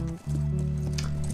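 Horses in The Last of Us video game, a steady low rumble of hooves and movement with faint clip-clop texture, moderately loud and continuous over the short stretch.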